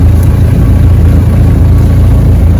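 A Mahindra Roxor's engine rumbles low and steady as it crawls uphill in four-wheel high with no throttle, a close, loud, unchanging drone.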